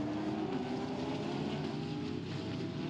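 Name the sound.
race car engine in the pits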